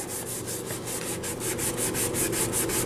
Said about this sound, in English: as I'm scrubbing, you'll notice the original color coming back